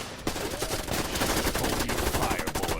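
Rapid, dense gunfire fills a motion comic scene, a continuous crackling barrage of shots close and loud throughout.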